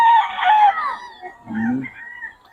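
A gamefowl rooster, SBR or Sweater breed, gives one loud, close crow, followed by a lower, brief throaty call.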